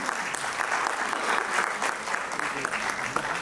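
Steady applause fills a hall at a medical college independence day celebration as hospital physiotherapy staff are honored, a dense continuous clapping from many hands with faint voices mixed in.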